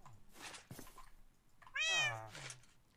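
A cat in the video game Minecraft gives one clear, rising and falling meow midway, surrounded by soft background sounds.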